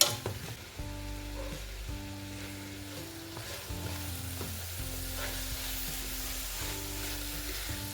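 Chicken being stirred in a pan while it sizzles and fries, a steady close crackle with repeated scraping strokes of a utensil against the pan throughout.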